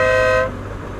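Aftermarket foghorn-style horn on a BMW R1200GSA motorcycle gives one loud, steady, tonal blast for about half a second, cutting off abruptly into low idle rumble.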